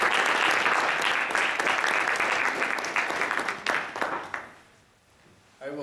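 An audience applauds a speaker being welcomed at a political talk event, with dense, sustained clapping from a crowd that fills the room and then tapers off near the end.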